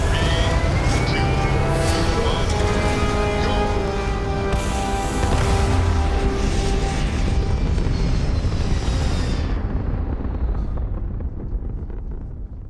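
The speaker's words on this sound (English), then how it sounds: "Ready for takeoff in" A spaceship lifts off in Starfield with a loud, sustained roaring thrust layered with rising whines, filling the space for about ten seconds before the high end thins and the rumble tapers off.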